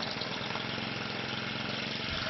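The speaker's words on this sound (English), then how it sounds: "Squeeze the throttle trigger and hold it as you pull the starter cord to start the engine." A Briggs & Stratton brush cutter engine runs at a steady idle, close and even, with a constant mid-pitched drone and no breaks.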